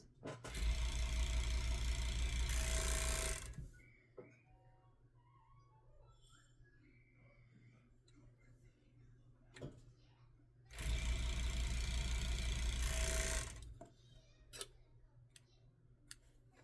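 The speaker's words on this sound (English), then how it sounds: "we're going to sew at the side seams" A sewing machine stitches the side seams of a child's top lining in two loud, steady whirring bursts of about three seconds each, separated by a quiet stretch of faint handling clicks.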